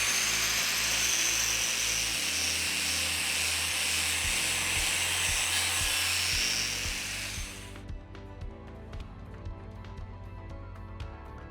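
A Zekoki electric grinder runs at high RPM with a loud, steady high-pitched whine for about eight seconds, then cuts off and winds down amid lighter mechanical rattling.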